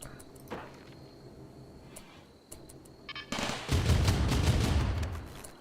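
Automated turret gunfire in the colony-building game RimWorld, a dense, sustained burst of shots that swells up loud after a few seconds of quieter scattered noise, with no talk over it.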